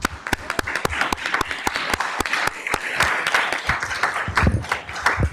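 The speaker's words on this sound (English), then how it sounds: "Let's give them a warm round of applause." A school board meeting audience gives two students a round of applause, with sharp, separate claps standing out over a scattered, moderately loud clapping bed.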